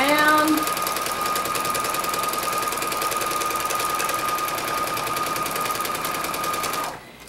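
A sewing machine running steadily for free motion quilting on an autumn topper, a fast, even mechanical stitching rattle held close and loud for about seven seconds before stopping abruptly.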